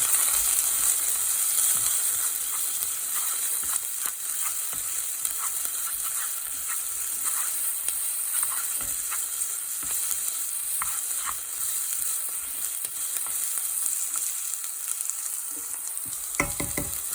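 Sliced onions sizzle and fry in a pan for rasam, giving a steady, close hiss with occasional stirring clinks and pops throughout.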